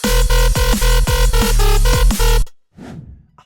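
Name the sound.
drum and bass drop recreation with FM bass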